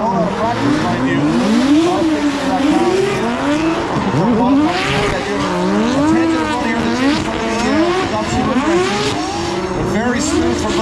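Drift cars on a short course at the LZ Invitational, engines wailing as they climb and fall through the gears, with repeated rising and dropping revs and some tire noise, loud and continuous under a commentator's voice.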